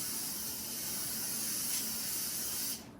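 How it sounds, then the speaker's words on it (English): Disinfectant sprayed in one steady, continuous hiss lasting close to three seconds, cutting off near the end, close by with no talk. "Spray everything down."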